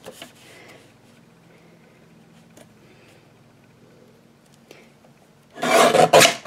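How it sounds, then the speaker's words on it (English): A paper guillotine trimmer slices through card with a loud, brief rasping cut near the end, after several seconds of quiet handling noise and faint background hum. "So I'm just going to put it in my guillotine."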